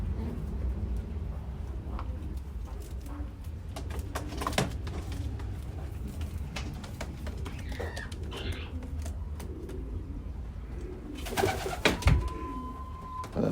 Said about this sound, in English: So pretty birds